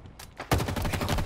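Rapid gunfire in the video game Halo Infinite, a dense burst of shots that starts abruptly and keeps up loud and steady, with a quieter stretch of shooting just before it.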